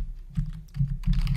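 Soft, steady clicking of a computer keyboard while a command is typed into CAD software, the keystrokes coming in quick uneven clusters with no talking.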